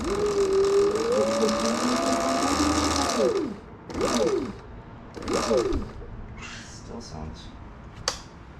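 A Sur Ron electric dirt bike's overly tight primary drive belt whines with a rising and falling pitch, then surges twice more in short mechanical bursts before settling into a quieter hum.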